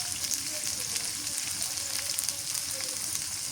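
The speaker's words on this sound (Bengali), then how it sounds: "মশলা রসুন বাটা দিলাম" Garlic paste, turmeric and spices sizzle and fry steadily in a hot pan, a close, continuous crackling hiss with no pauses.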